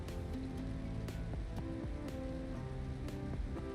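Steady rain hisses and patters on a Boeing 737 during a night flight from Hyderabad to Vizag in X-Plane 11, over a constant low cockpit hum with a few faint clicks.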